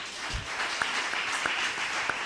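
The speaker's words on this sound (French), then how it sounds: "Acclame Dieu pour ça" A church congregation applauds in a steady, fairly faint patter of clapping that fills the whole moment, with a few sharper claps standing out and no clear voices.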